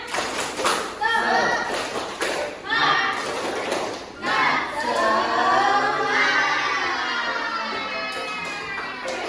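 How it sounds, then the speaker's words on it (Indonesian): A classroom of children doing a rhythmic spirit clap led by a teacher, bursts of patterned claps alternating with group chanting voices, close and lively. "Tepuk semangat."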